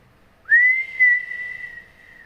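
A voice imitates a whistle coming from the front of a car: one steady, high, sustained whistle that rises quickly, then holds for nearly two seconds before fading.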